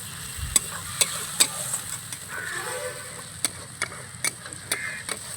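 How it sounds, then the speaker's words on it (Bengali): Okra and spice paste with yogurt being mixed in a pan over a very low flame, a soft background sizzle broken by sharp, regular taps and scrapes of a spoon against the pan. "এবার মিশিয়ে নেব।"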